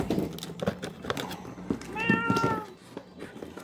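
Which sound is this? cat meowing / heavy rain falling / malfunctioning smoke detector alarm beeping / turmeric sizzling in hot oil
cat meowing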